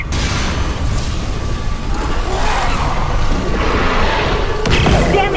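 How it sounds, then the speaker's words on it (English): A loud, dense burst of booming and thudding from an explosion in the Dead Space Remake video game, with crashing, mechanical rumble continuing throughout and a sharp impact near the end. "The explosion fried half the circuit!"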